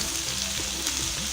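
Onions sizzle and crackle in hot oil in a close, continuous frying hiss, with faint stirring underneath.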